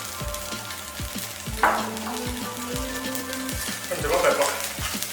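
Boiled mixed vegetables sizzle steadily in a pan with salt, pepper and butter, a soft continuous frying hiss broken by scrapes and taps of stirring, while a person talks over it.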